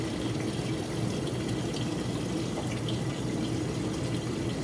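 Water runs steadily into an electric kettle holding about a third of a cup of vinegar, a continuous close splashing pour with no talking.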